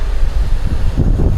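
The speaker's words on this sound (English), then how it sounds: "Windy today." Steady low wind buffets the microphone outdoors during a harvest, a continuous rumbling gust with no other clear sounds.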